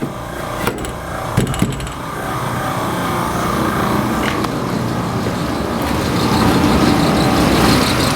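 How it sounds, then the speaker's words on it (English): A house's air blower runs with a steady broadband whoosh and low hum that swells slightly and holds, preceded by a few sharp clicks and knocks near the start. "The blower's running nice."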